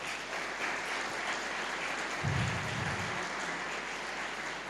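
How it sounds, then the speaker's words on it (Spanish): Steady applause from a crowd fills the whole stretch, a dense wash of clapping with a brief low thump partway through. "Está Pablo en particular, Pablo Sepúlveda, pido un aplauso para él en particular, por favor"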